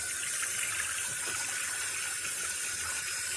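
Steady hiss of water pouring from a brushed gold waterfall-spout single-hole bathroom faucet on low-pressure well water, continuous and close with no talking.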